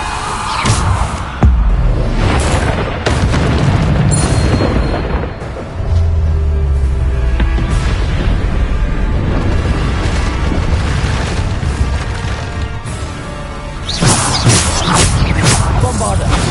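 Explosion spells such as Bombarda cast in a wizard video game: booming blasts and bangs sound again and again over a continuous loud rumble, with scattered pops and hisses, while game voices and effects mix in.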